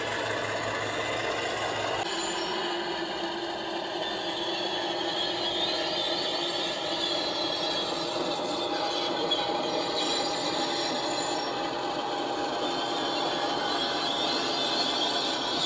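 A rumbling model Class 50 locomotive with a DCC sound decoder runs continuously, a high metallic flange squeal layered over the steady, turned-down engine drone.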